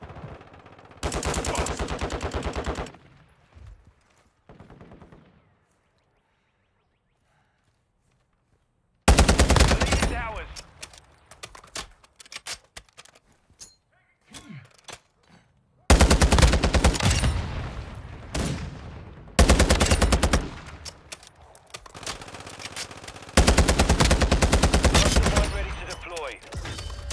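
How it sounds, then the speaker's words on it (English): Bursts of automatic gunfire from Call of Duty: Modern Warfare II, loud rapid fire arriving in several long volleys separated by a quiet stretch and quieter gaps. "Taking effective fire."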